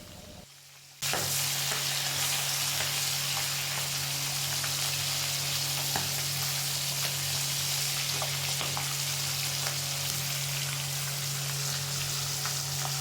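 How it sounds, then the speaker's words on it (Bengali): Rohu fish frying in hot oil, a continuous dense sizzle that starts abruptly after a brief quiet moment and holds steady and close for the rest of the clip, with a faint hum beneath and no talking. "এই রুই মাছগুলোকে ভেজে তুলে রাখবো"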